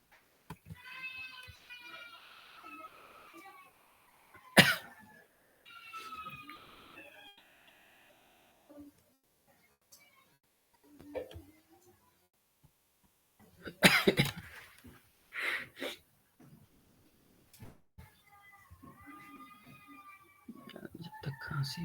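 A person coughs several times in sharp, separate bursts, spread between stretches of quiet speech in a calm indoor room.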